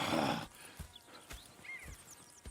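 Horses in Red Dead Redemption 2: a brief whinny at the start, then a steady series of hoof thuds on the ground, several evenly spaced clops at moderate distance.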